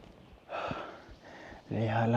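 Heavy, breathy panting from a hiker climbing Mount Kilimanjaro on the Lemosho route, several loud close gasps and exhales, with a voice sounding briefly at the end.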